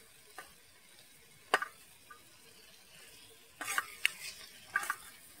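Paneer bhurji stirred and frying in a pan, heard as faint scattered clinks and scrapes of a spoon against the pan at irregular moments over a quiet, soft background sizzle.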